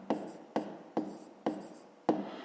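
A pen writing on paper during a fifth-grade math lesson, with five distinct scratchy strokes at irregular intervals, quiet and close, with no talk.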